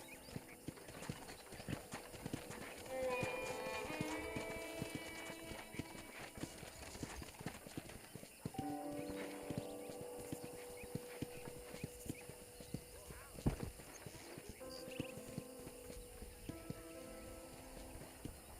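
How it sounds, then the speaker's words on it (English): Steady clip-clopping of horse hooves at a walking rhythm in the video game Red Dead Redemption, over a soft musical background, with a faint neigh partway through. "let's see if you can still ride a horse."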